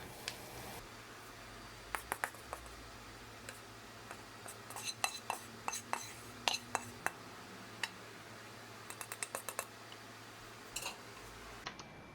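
Cooked cabbage being plated, with scattered light clinks and taps of cutlery against dishes over a quiet background, clustered in short bursts.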